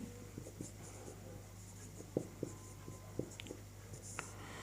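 Sanskrit words written on a board by hand, soft scattered taps and strokes of the writing tool over a low steady hum, close but faint, with no talk.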